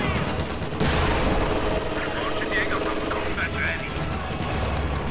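Strafing run in a World War II strategy game, with rapid machine-gun fire and engine drone layered into a loud, continuous battle din, while a commentator speaks over it.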